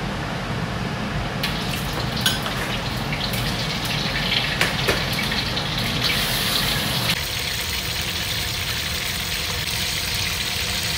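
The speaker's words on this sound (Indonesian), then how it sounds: "Ikan sardin ini kita goreng rangup." Sardines frying crisp in hot oil, a loud, steady, close hissing sizzle that continues throughout with a slight change in tone partway through.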